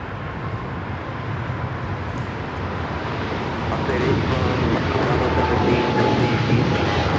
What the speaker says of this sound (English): That is Philippine Airlines Flight 113 taking off to Manila